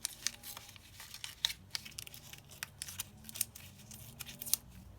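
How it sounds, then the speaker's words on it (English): Paper being torn across by hand for a staggered pocket scrapbook notebook, a quiet close-up of crisp rips and crinkles in short bursts with soft handling noises between them. "So I'm going to just tear this across slightly."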